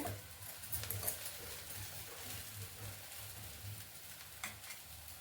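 A dosa fries on a pan after half a spoon of oil is added, giving a soft, steady sizzle with faint crackles, quiet and close, with no talking.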